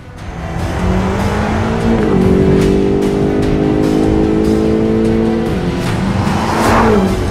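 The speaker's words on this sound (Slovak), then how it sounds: "zvuk 8-valcového biturba vám vleze do uši aj tak" A powerful twin-turbo V8 engine in a BMW X6M rumbles and revs up and down, its deep growl rising and falling over several seconds, loud and close.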